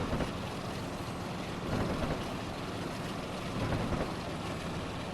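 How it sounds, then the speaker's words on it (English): A diesel train engine in the Transport Fever video game powers uphill in a steady, low droning rumble that swells slightly in places, heard alone without talk. "You hear the engine start to power."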